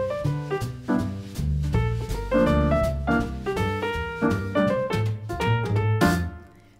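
Recording of a bebop jazz tune: a quick, busy ensemble with horn lines and walking bass over brisk swinging drums, played loud and continuous with no talking.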